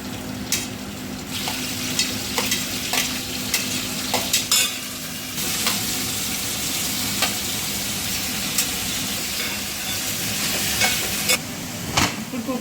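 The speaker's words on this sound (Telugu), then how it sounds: "ఇప్పుడు ఒక గిన్నె పెట్టుకొని 1 స్పూన్ ఆయిల్ వేసుకొని కూరగాయలన్నీ ఉడకబెట్టుకోవాలండి." Chopped vegetables with onion, green chillies and coriander cook in a spoon of oil in a pot for a simple dal rasam, giving a steady close sizzle with scraping stirs and clatter throughout, no voices.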